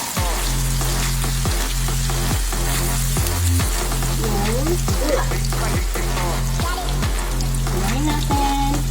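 Tender beef chunks sizzle and fry in a pan for beef caldereta, a steady crackling hiss throughout, overlaid by music with a repeating low beat.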